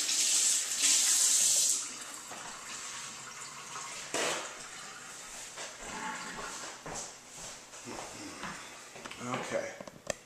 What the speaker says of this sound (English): Let me wash my paws real quick.